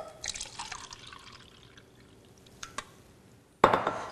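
Chanson ionized water poured into a glass: scattered soft trickles and clinks, then a sudden louder splashing pour near the end, close and otherwise quiet.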